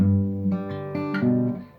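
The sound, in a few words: guitar playing full second phrase of a song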